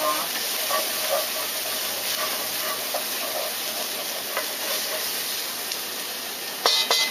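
Cumin seeds, garlic, ginger and chili sizzle steadily in an iron pan, a continuous close hiss with a brief clatter near the end.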